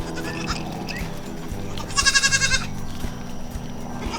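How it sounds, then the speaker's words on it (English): Goats on a small homestead bleat once in a loud, wavering cry partway through, over a background of farm noise and faint thuds. "these are the goats."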